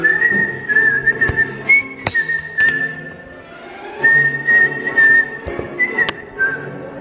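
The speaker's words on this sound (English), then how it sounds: "Probably start whistling, shouldn't I?" A person whistles a wandering tune, clear bright notes rising and falling with short pauses between phrases, alone without talk.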